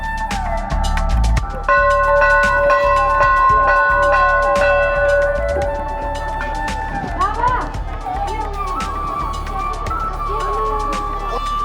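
Temple bells at Pau Pathibhara Temple in Nepal ring out one after another, bright tones sustaining over a busy, loud crowd background.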